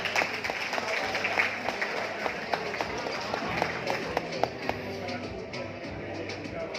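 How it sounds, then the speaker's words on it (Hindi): Audience applause at a rice bran oil dealers' event for Mr Jodhraj Nagar, welcomed for buying 177 pieces; steady crowd clapping over a low musical tone, with scattered sharper claps, moderately loud throughout. "जोरदार तालियां नागर साहब के लिए"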